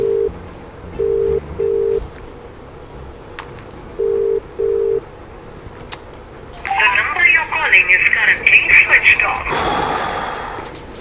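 A phone line rings in short paired tones, two bursts then two more, followed by a jumbled recorded voice message over line noise.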